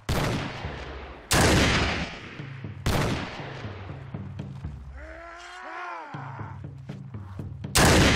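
Several loud, sharp video game gunshots, including from a Nerf-style toy gun, ring out in spaced bursts with rapid fire in between, and a brief whistling swoop midway.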